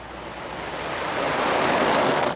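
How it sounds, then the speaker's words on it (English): A garden sprinkler sprays water over freshly planted fall garden beds, a steady broadband hiss that swells slightly louder as it goes, with no talking. "Well, the sprinkler is going."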